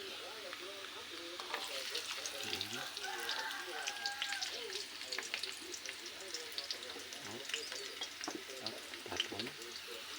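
Garlic and onion sizzle steadily in a hot pan, a bright constant frying hiss with occasional clinks and stirring scrapes, while a person talks faintly over it.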